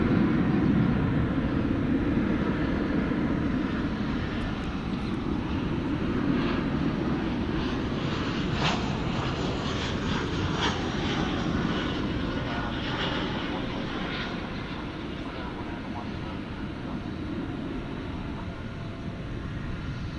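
Jet engines of a British Airways airliner taxiing at DFW International Airport give a steady, loud broadband roar that holds throughout and eases slightly toward the end, heard from outdoors at a distance.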